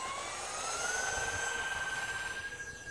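An E-flite Aero Commander UMX radio-controlled model plane takes off with a thin electric motor whine that rises and holds steady for three seconds, heard alone over outdoor hiss.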